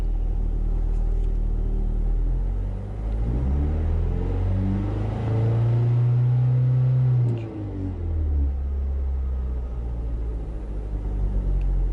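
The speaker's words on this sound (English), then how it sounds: "go ahead and rev it up to 4 grand." A Mazdaspeed3 engine revs up to about 4000 rpm and settles back, a steady idle rumble swelling into a rising, smooth rev for several seconds before dropping off, heard up close with no talk.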